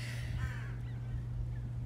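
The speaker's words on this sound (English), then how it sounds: "the crow that's talking to me right now" A crow calls nearby, a couple of hoarse caws early on over a steady low electrical hum, with no one talking.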